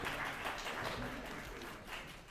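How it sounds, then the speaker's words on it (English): Steady applause from a crowd fills the whole stretch, a dense continuous patter of many hands clapping at even loudness. "please clap for him until he gets on stage"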